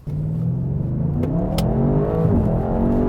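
An Audi RS6 with stability control switched off accelerates hard, its engine note rising steadily and loudly through the gears, close up and with no talking.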